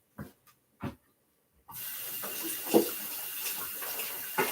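Tap water runs to rinse fresh strawberries in a kitchen, a steady hissing stream that starts abruptly after a few light clicks and handling sounds. Soft knocks are heard as the berries are moved under the flow.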